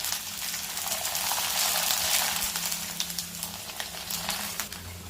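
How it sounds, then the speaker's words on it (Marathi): Jowar bibdi papad fry in hot oil with a steady, dense sizzle and crackle running throughout at moderate level, with a faint low hum underneath and no voices. "तर आता बिबड्या आपण तळून बघूयात।"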